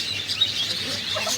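Small birds chirping in short, high tweets while being hand-fed, close by over a steady background, with a brief louder call near the start.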